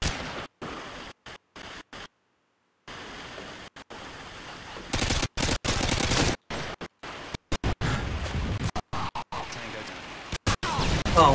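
Rapid bursts of gunfire in Call of Duty: Modern Warfare 2 (2009) during a team deathmatch, loud and choppy with repeated sharp dropouts from lag, and a player talking over parts of it.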